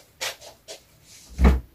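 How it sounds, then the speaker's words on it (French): A household door is opened to let a cat out: a couple of light latch clicks and rattles, then one soft thud, heard close and alone. "Attendez, je vais lui ouvrir la porte."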